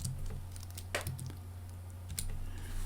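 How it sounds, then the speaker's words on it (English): Keys click on a Mac keyboard as a shortcut combination is pressed. A few quick, soft taps sound close over a low background hum. "I'm pressing Command-Shift-N again."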